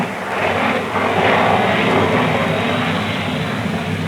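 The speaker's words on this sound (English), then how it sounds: "A British-powered Comet4 touches down at London Airport." A de Havilland Comet 4 jet airliner touches down at London Airport, a broad, continuous roar of jet engines and rushing air swelling briefly then holding steady at moderate distance.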